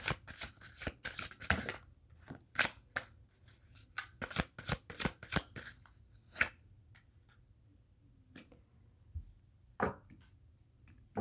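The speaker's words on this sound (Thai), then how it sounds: "เราขอขยายไพ่เจ็ดไม้นะ" Tarot cards being shuffled and drawn, a run of crisp close riffling snaps in quick bursts, then sparse single card flicks and taps in a quiet room.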